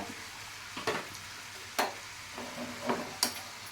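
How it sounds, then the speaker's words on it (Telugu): Cauliflower curry is stirred in a pan, with a spoon scraping in several sharp, uneven strokes over a soft, continuous sizzle, close and fairly quiet. "చక్కగా కలియబెట్టుకోవాలి"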